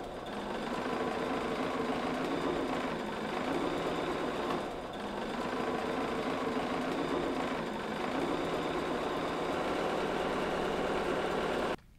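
A sewing machine runs steadily through the final seam of a bias-cut quilt block, a continuous close mechanical whir with slight speed dips, lasting about twelve seconds before stopping abruptly, with no talking.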